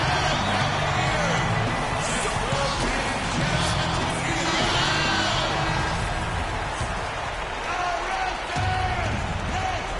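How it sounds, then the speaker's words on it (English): In the NBA 2K15 basketball game, an arena crowd roars and cheers loudly and continuously, a dense wash of voices filling the whole stretch under a commentator talking. "That's how you get the crowd on its feet."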